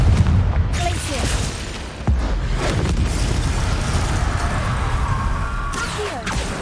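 The Confringo spell exploding in the Hogwarts Legacy video game, with a dense, rumbling blast and crashing debris running several seconds, a sharp burst midway and another near the end, and a voice speaking over it.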